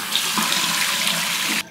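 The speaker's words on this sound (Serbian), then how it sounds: "Aj, opriši vodom i onda pogledaj." Tap water runs hard into a sink for rinsing a face, a loud, close, continuous splashing gush that stops abruptly right at the end.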